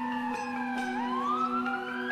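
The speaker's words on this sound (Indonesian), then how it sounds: "Alia, Rizky, ambulannya sudah datang." An ambulance siren wails loud and close, its pitch sweeping and rising as it arrives, over a steady low engine hum, with no voices.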